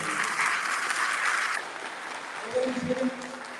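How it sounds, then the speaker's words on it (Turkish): Applause rises at a scholarship gala for a Turkish association federation, a brief wash of clapping that fades after a second or so into room noise, followed by a short murmur of voices. "Ona bir çok kuvvetli bir alkış lazım."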